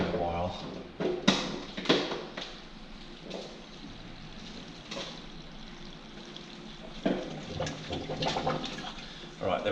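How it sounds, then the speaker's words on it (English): Water drains from a Red Sea Reefer aquarium with a continuous gurgling, trickling wash, near and moderate in level, interrupted by occasional knocks and clunks of handled equipment, with someone talking briefly. "So I'm just draining this of water."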